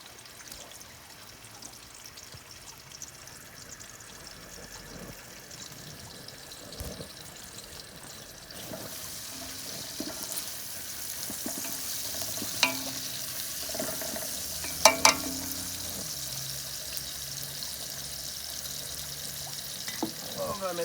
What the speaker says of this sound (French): On va mettre les oignons.